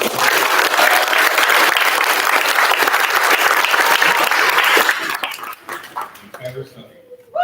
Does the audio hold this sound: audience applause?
yes